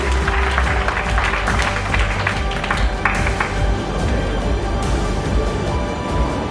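Audience applause welcomes Ravindra Meghlani at a presidential session of a chamber of industries and services gathering, with dense, continuous clapping from a sizable crowd that stays loud for several seconds.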